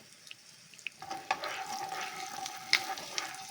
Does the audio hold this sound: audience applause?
no